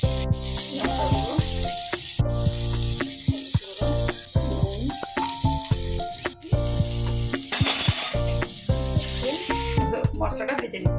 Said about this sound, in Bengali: মশলাটা ভেজে নিতে হবে